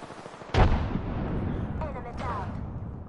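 A frag grenade detonating in the Apex Legends battle royale game, one sharp loud blast followed by a rumbling decay and faint tonal game effects, heard alone without talk.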